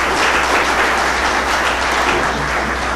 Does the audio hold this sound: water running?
no